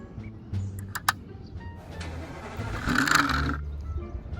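A truck engine cranks with a few sharp clicks, catches and settles into a low idle, then revs up louder before easing off as the vehicle pulls away, close by.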